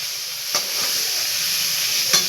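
Mixed winter vegetables fry in a wok for khichuri, giving a steady broadband sizzle with two brief stirring scrapes, close and moderately loud with no talk.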